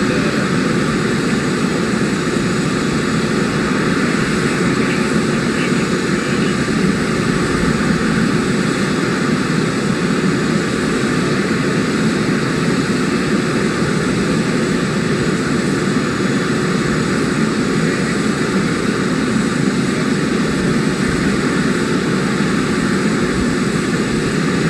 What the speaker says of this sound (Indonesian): pesawat kepresidenan